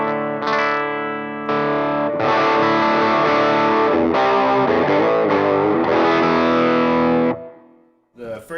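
Electric guitar played through a Pigtronics-modded 808 overdrive pedal with all knobs at noon into a clean amp: sustained distorted chords and notes ringing for several seconds, a brief pause, then a short final strum.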